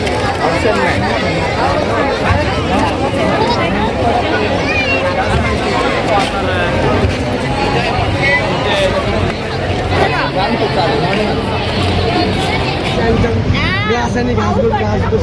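A dense, continuous hubbub of a packed crowd at a public festival in Siddharth Colony, with many overlapping voices close by and people chatting right in the foreground.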